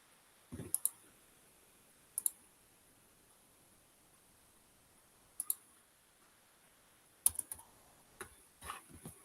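Typing on a keyboard comes in short, sparse bursts of crisp clicks separated by long quiet gaps, close and fairly faint in a quiet room with a steady high-pitched background whine.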